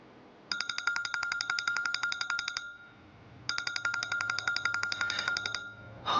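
A phone ringtone trills in two rapid electronic bursts separated by a short pause, loud and close.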